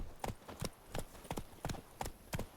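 Hooves of Roach, a horse in a video game, clip-clop at a steady walking pace, about eight distinct paired strikes over a quiet background.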